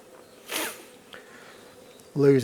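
Honey bees buzzing around an opened hive on a farm during a spring inspection, a soft diffuse hum with a louder swell early on, followed by a voice at the end.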